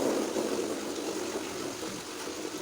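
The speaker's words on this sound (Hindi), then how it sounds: "और अब मैं इस बाल्टी में डालूँगी पानी।" Water pours into a bucket during hand laundry, a steady, close rush and splash that runs unbroken throughout with no voices.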